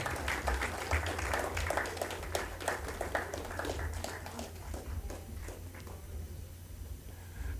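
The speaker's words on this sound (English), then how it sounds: "let's give them a round of applause and encourage them as they come up" A crowd at the launch event of a productivity awareness week claps to welcome performers coming up, a fairly faint, steady patter of many hands over a low background hum.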